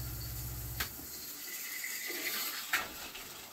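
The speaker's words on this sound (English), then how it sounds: "I'm actually going to spray it out of my shower head" Water sprays in a steady hiss from a travel trailer shower head while red liquid is pushed through the lines during winterizing, after a short low hum at the start, with a couple of faint clicks.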